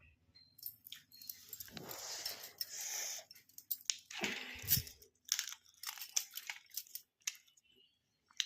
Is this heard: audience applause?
no